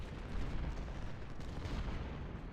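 An artillery battery being destroyed during a Civil War battle in Ultimate General: Civil War, heard as a dense, continuous low rumble of cannon fire and musketry with no clear gaps, steady and fairly loud throughout.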